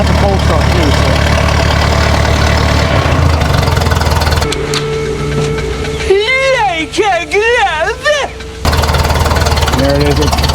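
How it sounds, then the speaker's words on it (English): An older vehicle engine converted from 6V positive ground to 12V negative ground runs after a cold start, idling loud and close with a steady rumble while people talk over it. "That's a cold start too, so."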